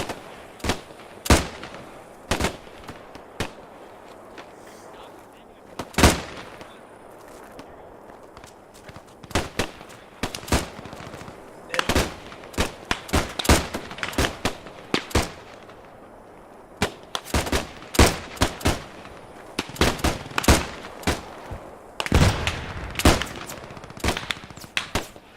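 Gunfire rings out in the World War II shooter Post Scriptum, sharp cracks and short rapid volleys, some close and loud, others more distant, scattered irregularly across a tense stretch with faint background rumble and no talking.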